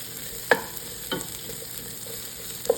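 Ginger stirred in a pot for Filipino rice ginger soup makes a steady soft sizzle, with a few distinct scraping clinks of the utensil against the pot at close range.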